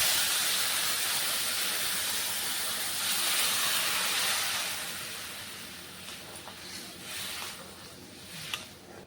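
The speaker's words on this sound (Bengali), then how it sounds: "এখন আমি দিয়ে দিচ্ছি গরম জল।" Hot water poured into a cooking pot while making a village-style fish curry with gati kochu taro: a steady, loud hissing rush that gradually softens and fades, ending with a few faint clinks.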